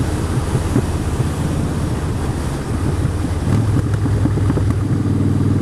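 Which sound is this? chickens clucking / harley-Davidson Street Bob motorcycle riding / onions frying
harley-Davidson Street Bob motorcycle riding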